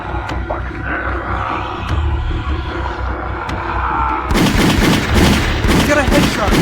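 Video game gunfire in a shooter, a continuous loud barrage of rapid shots that grows denser and harsher partway through, with a few sharper individual cracks standing out early on.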